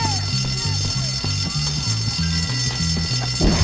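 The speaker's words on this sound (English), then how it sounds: "Who set that alarm off?" A school alarm rings in the game Bully: Scholarship Edition, a loud pulsing buzz in a steady repeating rhythm over a noisy background that lasts the whole moment.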